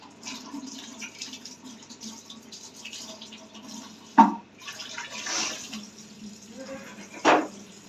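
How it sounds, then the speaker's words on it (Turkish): A tap runs as oily hands are washed beneath it, making a soft, continuous water patter with a couple of louder splashes midway and near the end. "İlk olarak ellerimizi yıkayalım çünkü çok e, yağlandı."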